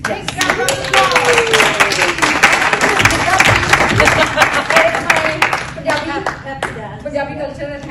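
A room of people clapping for speakers at a community gathering with Punjabi dance, dense and sustained applause with scattered sharp claps throughout, joined by voices and a rising tonal sound over the crowd.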